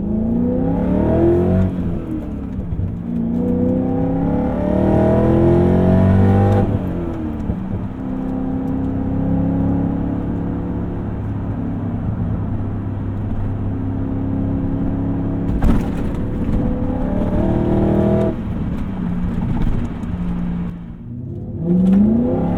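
A BMW E39 M5 Touring wagon engine revs hard through the gears, its rising harmonic sweeps climbing and dropping at each shift, loud and close with no talk over it.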